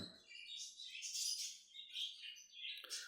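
Dense, bright chirps and tweets from many caged birds fill Garia bird market, a steady overlapping chatter with a sharper call near the end and no voices.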